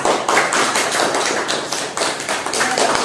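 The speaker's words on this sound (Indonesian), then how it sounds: "kita beri aplaus" Classroom applause from a group of students, a dense, continuous patter of hand claps at close range with no voices, steady throughout.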